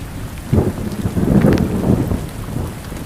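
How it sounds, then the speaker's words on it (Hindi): Steady rain falls in a cartoon scene, a soft continuous wash of drops with low rumbling swells like distant thunder, no voices over it. "रामू ने सुबह देखा कि बारिश हो रही है"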